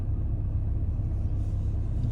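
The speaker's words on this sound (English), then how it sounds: "Doesn't look like a bus, it's a car." A car passes on a Scottish island road in winter, heard as a steady, fairly loud low rumble of engine and tyres that holds even for about two seconds, with no talking.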